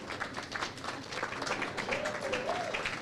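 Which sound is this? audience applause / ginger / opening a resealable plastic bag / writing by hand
audience applause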